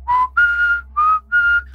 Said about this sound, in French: on entend quelqu'un siffler et c'est très dérangeant